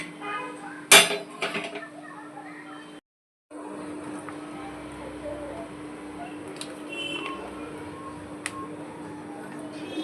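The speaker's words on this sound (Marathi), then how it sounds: "आता आपण तवा मांडूया आणि आपली भाकर रेडी करूया" A tawa griddle set down on a kitchen stove for making bhakri: a sharp metallic clank near the start, then a steady background hum that drops out briefly, with light clinks later.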